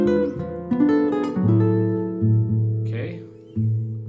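Jazz guitar sounding a diminished seventh chord variation with a lowered C natural and A, in a tango or Django Reinhardt style: a few sustained strummed chords ring out close and clear, alone with no talking.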